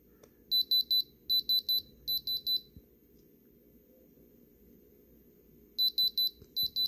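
A diamond tester beeps in quick clusters of high electronic tones as it tests small moissanite stones set in a 6mm rope chain, with groups of beeps, a quiet pause, then more beeps, close and clear.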